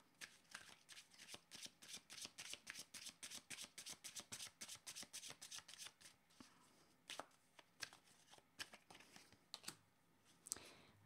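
Tarot cards being shuffled by hand: a quick, regular run of soft riffling taps for several seconds, then slower scattered flicks and shuffles, all quiet and close.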